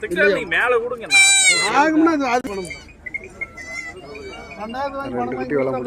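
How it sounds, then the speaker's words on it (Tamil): Goats and young kids bleat repeatedly at the Sunday early-morning goat market in Perundurai, Erode district. The calls are loud and close, overlapping one another, with market chatter and people talking underneath. "பெருந்துறை ஆட்டுச்சந்தையில் பாருங்கள் காலங்காத்தாலேயே பால் குட்டிகள் அதிக அளவில் விற்பனைக்கு வந்திருக்கு"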